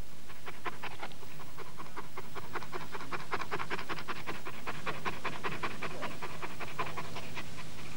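Close, rhythmic dog panting, quick breathy huffs repeating steadily for several seconds with no talking.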